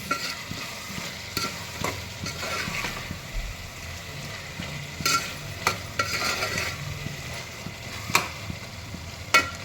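Ginger garlic paste frying with vegetables for pulao, a steady sizzle with scraping stir strokes and occasional clinks of a spoon against the pan, close and continuous.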